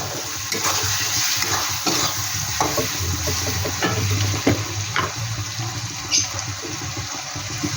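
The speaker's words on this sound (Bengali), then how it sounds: "দিয়ে দিচ্ছি জিরার গুঁড়ো, ধনিয়ার গুঁড়ো, এবার ভালো করে একটু নেড়ে নেব।" Cumin and coriander powder stirred in a hot pan for a coconut chicken curry, giving a steady sizzle with scraping spoon strokes throughout, close and fairly loud, with no voices.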